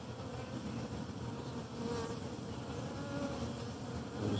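Honey bees buzz around a Flow Hive in a steady, dense drone that carries on without a break. The swarm sounds close and fairly quiet, with no voices.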